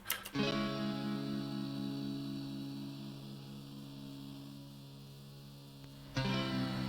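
A solo electric guitar holds a sustained chord with a pulsing tremolo wobble, then re-strikes it near the end; no voices.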